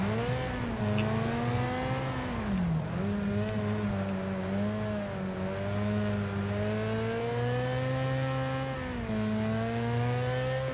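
Race car engine in the Wreckfest video game revs high around 7,500 RPM, a loud sustained whine with rising and falling pitch sweeps as gears change, continuous and alone without talk.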